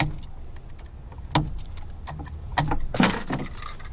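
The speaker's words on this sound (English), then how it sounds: "There are the keys. So you have two sets of keys" Keys for a large mobility scooter jangle and clink close by in several bursts of metallic rattling, the loudest near the end, against a quiet background.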